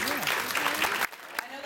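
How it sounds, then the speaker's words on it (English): An audience at a gala dinner applauds the event staff and volunteers, a steady wash of clapping under a speaker's amplified voice that suddenly drops away. "Let's give them a round of applause."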